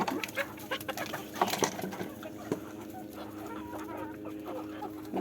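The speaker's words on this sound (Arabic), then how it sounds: "هذا الديك اللي بيحكوا عنه برجلين طويلة." A long-legged rooster and hens, including Bulgarian and local breeds, cluck in a farmyard with repeated close, irregular bursts of clucking and calls over a steady background.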